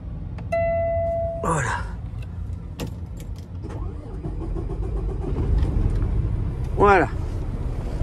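A truck engine idles steadily in the cab of a long-haul rig in Canada and the USA, with a continuous low rumble. Brief electronic beeps come near the start, and faint clatter and a chirping sound follow later.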